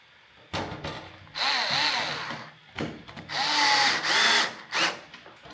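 A power driver runs screws into a Bambu P1P 3D printer during its P1S upgrade, in several bursts of close, loud whirring, one brief and others sustained for a second or more, with short ratchety stops between them.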